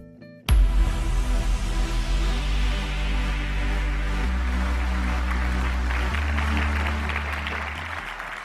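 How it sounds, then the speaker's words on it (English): Sustained applause from a conference audience, steady dense clapping starting abruptly and continuing throughout, fairly loud with a low hum underneath. "thank you for the applause"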